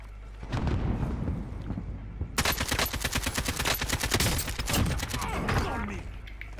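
Rapid AK-47 gunfire in the Warzone video game on Rebirth Island, a dense run of loud, close automatic shots that starts after a couple of seconds of rumbling game ambience and keeps rattling in quick bursts.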